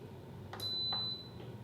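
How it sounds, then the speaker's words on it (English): An Instant Pot being switched off gives one sustained electronic beep, clear and close, against a quiet kitchen hum, with a few faint clicks around it. "we're gonna shut off our Instapot"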